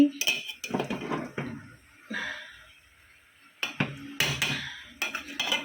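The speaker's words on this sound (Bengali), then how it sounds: "চাল ডাল দিয়ে সব কষে নিচ্ছি" A spoon stirs and scrapes rice and lentils being sautéed in a pot for khichuri with cauliflower, potato, radish and tomato. Irregular close metallic clinks and scrapes come in bursts with short quiet gaps.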